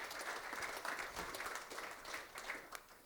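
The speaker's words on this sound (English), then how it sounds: "round of applause for each and every one of you" An audience at a forum session gives a faint, distant round of applause, a dense patter of many hands clapping together with no talk over it.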